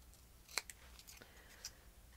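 Scissors cutting scrapbook paper around a small bird shape, a few quiet snips with one sharper clip near the middle, soft and close in a quiet room.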